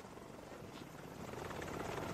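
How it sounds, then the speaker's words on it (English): A helicopter flies nearby in a drama scene, a steady dense rotor chop and engine roar that grows slightly louder toward the end with no talk over it. "Who the fuck is coming in a helicopter right now?"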